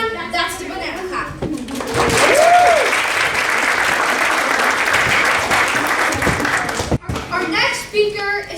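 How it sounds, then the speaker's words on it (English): An audience at a guild induction ceremony claps together in a loud, sustained burst that runs for several seconds before cutting off. Scattered voices and a brief exclamation sound over the opening and the tail. "Everyone, that's the banana clap."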